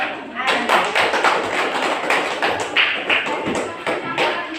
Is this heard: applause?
yes